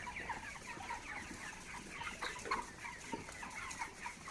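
Broiler chickens at midnight in winter give a soft, continuous chorus of overlapping clucks and murmurs, steady and fairly close.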